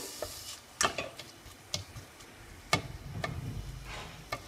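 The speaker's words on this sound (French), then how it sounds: "je laisse un petit peu mes oignons frire" Garlic and onions frying in a pan for Moroccan-style lentils with tomato, with a low sizzle beneath several sharp utensil clinks and scrapes against the pan, close and fairly quiet.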